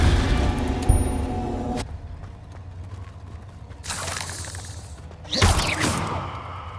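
Confringo blasting spells explode in Hogwarts Legacy: a sharp boom at the start, then two more whooshing blasts a few seconds apart, loud against a quiet background.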